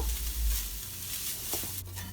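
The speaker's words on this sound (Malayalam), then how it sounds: "ഈ തേങ്ങ നല്ല ചുവന്ന നിറമാവുന്നത് വരെ ചെറു വറുത്തെടുക്കണം" Grated coconut and curry leaves roasting in a pan over a low flame, with a continuous soft sizzle and light stirring scrapes, close and steady.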